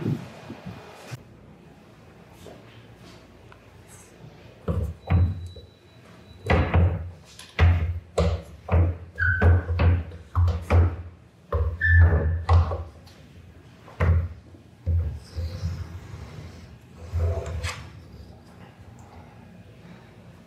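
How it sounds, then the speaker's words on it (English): A door is handled and shifted in a home during a move-in, with a run of close, irregular thumps, knocks and bangs, some sharp and some dull, with short pauses between them. "We're gonna fix this door."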